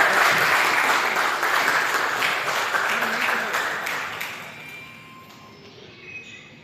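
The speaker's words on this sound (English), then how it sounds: "give the gentleman a big round of applause" Guests at a Kia Seltos launch event in the Andamans applauding a participant in a magic show, dense clapping that gradually fades out to near quiet.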